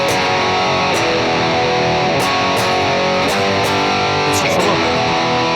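Distorted electric guitar plays the slow closing section of a song, loud and dense with sustained chords and a few sharp pick attacks, no voice.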